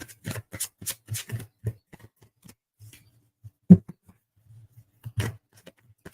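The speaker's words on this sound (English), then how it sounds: "I'll pull 2 cards for you, Lisa." Tarot cards shuffled before a reading, a series of crisp, close riffling bursts and soft flicks in short clusters, with a sharper slap midway and quiet gaps between.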